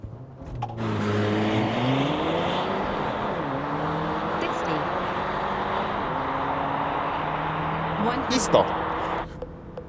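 A 2021 Porsche Macan 2.0T 265 HP engine roars loudly during a launch start in sport mode, revving up and climbing in pitch through the gears as it accelerates hard, then cuts off abruptly.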